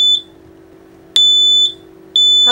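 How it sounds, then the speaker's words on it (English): An apartment smoke alarm shrieks in loud, piercing beeps, three evenly spaced pulses about a second apart over a steady low hum. "The fire alarm's going off and I can smell smoke."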